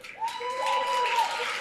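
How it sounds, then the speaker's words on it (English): An audience at a talk bursts into a short spell of clapping that swells quickly and stays steady, with a faint voice tone running underneath. "I'm never sure if you're clapping because you're like, good job, or you're like, I'm glad the atheist is gone"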